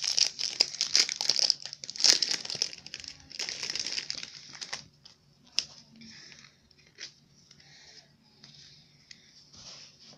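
Packaging of a Pokémon Sword and Shield Elite Trainer Box is torn and crinkled open up close, loud bursts of plastic and cardboard rustling that thin out into scattered softer crinkles.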